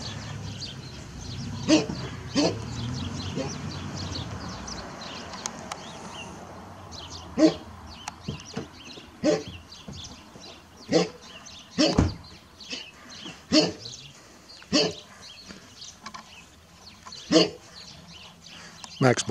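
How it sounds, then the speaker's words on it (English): A dog barks at sheep in a rural field, a series of sharp, fairly close barks spaced irregularly over a steady low outdoor background, with no talk over them. "Max barking at the sheep."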